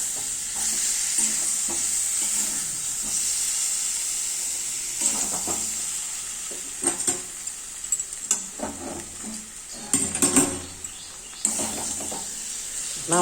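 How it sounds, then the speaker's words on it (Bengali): Garlic sautéing with turmeric, chili, a little salt and sugar in a pan, a steady high sizzle with intermittent stirring scrapes and clinks growing busier toward the end. "রসুনের সঙ্গে কষে নিলাম হলুদ লঙ্কা, একটু নুন"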